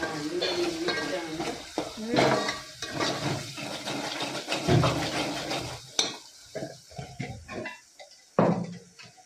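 Tomatoes, onions and green chillies are tempered in a hot pan, with oily sizzling and irregular stirring scrapes close by, plus a few sharp clinks of utensils.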